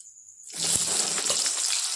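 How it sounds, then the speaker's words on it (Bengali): Six chopped onions drop into leftover hot oil in a pan after frying jackfruit, bursting into a loud, steady sizzle after a quiet start that holds to the end. "এবার আমি পেঁয়াজগুলো ভাজতে দিচ্ছি।"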